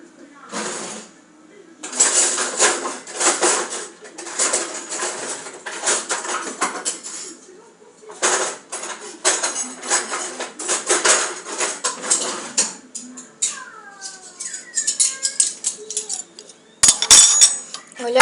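Metal spoons clink and tap against dishes while Nescau milk is prepared, with repeated bright rattling bursts, short pauses and a few pouring or scraping touches near the end, under a person talking.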